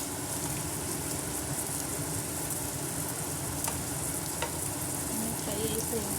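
Fish fries in hot oil with a steady, even sizzle and faint crackle throughout, moderately quiet and close, with no talking over it.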